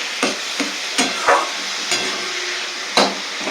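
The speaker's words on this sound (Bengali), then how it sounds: "হালকাই ভাজবো, খুব বেশি ভাজা নেই" Food frying and being stirred in a pan while momos are prepared, a steady sizzle broken by several sharp utensil scrapes and clacks against the pan, close and alone with no talk.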